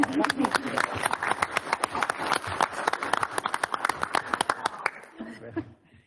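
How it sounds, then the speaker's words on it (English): A county commissioners' court meeting audience claps for the county librarian, a scattered round of individual claps with some chuckling and voices mixed in, fading out near the end. "Let's give her a round of applause."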